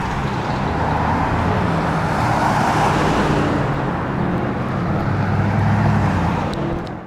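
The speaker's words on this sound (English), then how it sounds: "Traffic." Road traffic in a rough neighborhood of Phoenix, a steady loud rumble of cars and heavier vehicles passing nearby, swelling and easing as they go by.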